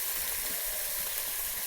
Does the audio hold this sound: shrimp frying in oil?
yes